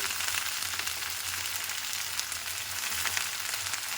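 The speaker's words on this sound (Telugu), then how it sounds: "ఇలా వేసేసుకొని దీన్ని మొత్తం మంచిగా ఫ్రై చేసుకుందాం చూడండి ముల్లంగి ఆకు" Finely cut radish leaves fry in a pan, giving a constant close hiss of sizzling oil with faint low rumbles underneath and no talking.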